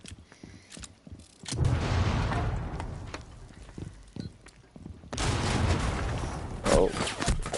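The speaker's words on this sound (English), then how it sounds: "Throwing frag." A frag grenade thrown in a first-person shooter video game, with a short mechanical clatter followed by a loud explosive burst, then another heavy blast with rumbling debris a few seconds later.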